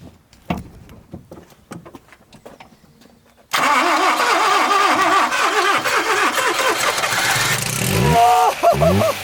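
A Nissan S15 with a tired starter, cranking weakly then catching and firing up into a loud, rough running engine, close by, with voices talking faintly before the start.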